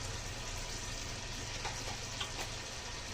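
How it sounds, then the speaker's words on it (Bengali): Spices such as cumin and turmeric powder fry in oil as they are stirred, giving a dense, steady, fairly faint sizzle with a few light scrapes near the end. "এখন সব মশলা আমি খুব সুন্দর করে কষাতে থাকবো যতক্ষণ না মশলা থেকে আবার তেল ছাড়ে"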